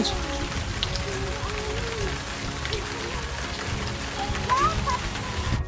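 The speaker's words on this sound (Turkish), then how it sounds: "Artık yağmur yağıyor yani." Steady rain patters on surfaces in a dense, continuous hiss, with occasional faint bird chirps in the background.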